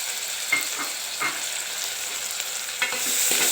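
Tomatoes sautéing in a pan for a brinjal and drumstick gravy give a soft continuous sizzle, broken by a few scraping stirs of the spoon, close and fairly quiet.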